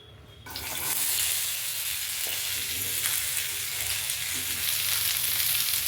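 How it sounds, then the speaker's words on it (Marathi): Onion fries in oil in a pan for a Maharashtrian maswadi recipe, a steady close sizzle that begins after a brief quiet moment and continues without pause, no voices. "आता कांदा भाजून घेणार आहोत, थोडंसं तेल टाकायचं पॅन मध्ये आधी"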